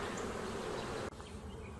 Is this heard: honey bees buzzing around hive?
yes